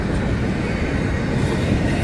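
An FEC railway train passes at night, a loud, dense, continuous rumble and rattle of rolling cars and wheels close by, with no pauses.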